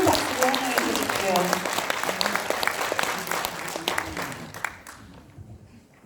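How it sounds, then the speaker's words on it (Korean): Applause from an audience welcoming a former prime minister to the podium at an association's general meeting and special lecture, steady clapping that fades out toward the end, with some voices mixed in. "큰 박수로 환영해 주십시오"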